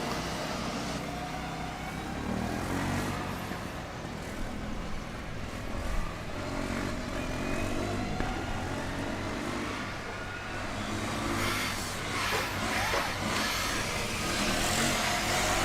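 A Formula Student race car on the endurance event at Formula Student Germany 2023 drives steadily with a continuous engine drone, rising into a louder, higher whine toward the end.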